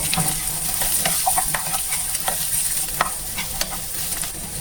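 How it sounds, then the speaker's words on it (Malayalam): Dried red chillies sauté in a pan for a chemmeen chammanthi, giving a steady close sizzle with scattered sharp crackles and the scrape of stirring throughout. "പിന്നെ നമുക്ക് ഉണക്കമുളക് ഇട്ട് കൊടുത്ത് ഒന്ന് വഴറ്റി കൊടുക്കാം."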